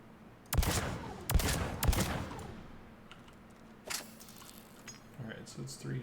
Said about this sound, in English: Oh right, this is a burst fire submachine gun.